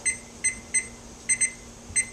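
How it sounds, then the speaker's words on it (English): A kitchen timer being set for steamed burgers gives six short electronic beeps in an irregular pattern, with two beeps close together near the middle, clear against a quiet room hum. "Now, we're going to set our timer"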